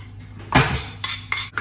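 A metal spoon scrapes cracked raw eggs out of a bowl into the mixing bowl of gluten-free carrot cake cupcake batter: three quick, close scraping strokes against the bowl.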